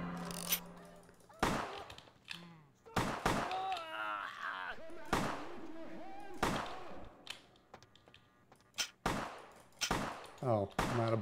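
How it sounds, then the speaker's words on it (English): Gunfire rings out in the video game Vampire: The Masquerade – Bloodlines: loud, sharp shots come singly and in quick bursts over about eleven seconds, with a voice speaking between them. "I'm gonna gun everyone down."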